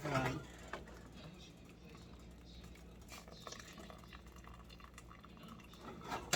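Pasta cooking water rushes and splashes as it pours out into a strainer, a steady gushing wash of liquid that swells near the start and end.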